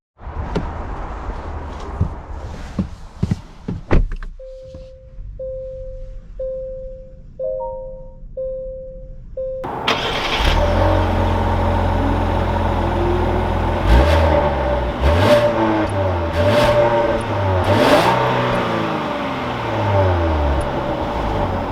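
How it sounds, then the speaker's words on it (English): A 2021 Genesis G80 Prestige comes to life with a few chimes and clicks, then its engine catches and settles into a smooth hum that swells and eases as the car pulls away and drives, with no talking. "let's take this G80 out and see how it drives"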